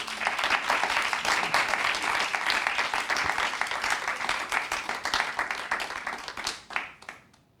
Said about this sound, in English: give her a big applause for being part of this Fluid Space community